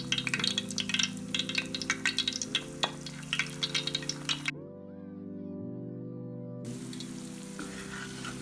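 Maggi noodle pakoras frying in hot oil, a steady crackling sizzle that drops briefly to a quieter bubbling hum midway before the bright sizzle returns, with background music tones underneath.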